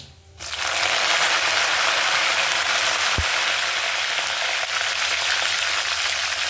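Curry leaves hitting hot oil in a home kitchen set off a sudden loud, sustained sizzle and spatter that begins almost at once and holds steady for several seconds, with no one speaking.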